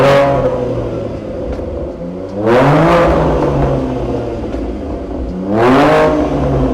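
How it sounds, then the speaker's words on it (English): A BMW M3 (G80-series) engine revs twice through a Miltech OPF-delete catback exhaust with a resonated centre box. Each blip rises into a loud, close bark and settles back to a steady, rumbling idle between them. "he's actually had the Miltech OPF delete catback system fitted whilst he's been down here with the resonated centre box"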